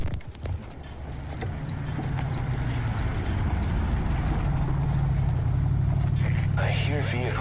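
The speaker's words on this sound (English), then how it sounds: "I hear vehicles." Engine rumble of vehicles in a video game builds and holds steady as they drive nearby, a low continuous drone, with a brief chirping sound near the end.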